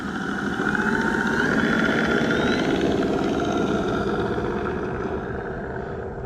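An E-Flite Carbon Z T-28 radio-controlled model plane takes off at a little over half throttle, its electric motor whining steadily and loudly, a constant buzzing drone that fades slightly toward the end, with no talking.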